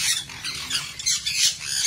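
Pet birds squawk loudly and continuously, with harsh, overlapping calls close by during a morning feeding.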